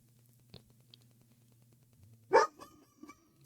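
A dog named Kamala barks once loudly and sharply at close range, preceded by a few faint yips and soft rustling and followed by a quieter trailing bark.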